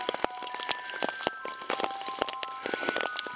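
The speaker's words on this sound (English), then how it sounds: "it is raining now" Rain pattering steadily on a nearby surface at the Ragged Point trailhead, scattered sharp drops hitting over a soft continuous wash.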